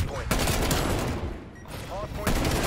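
M16 rifle gunfire in Call of Duty Black Ops Cold War: loud bursts of shots near the start and end with a quieter gap between, mixed with game effects.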